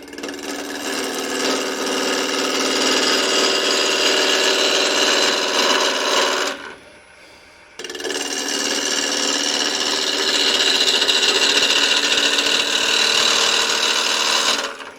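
Spalted wood candlestick blank spinning on a woodturning lathe as it is cut round, a loud steady broadband whir and scraping that runs continuously, breaks off for about a second, then resumes just as strongly.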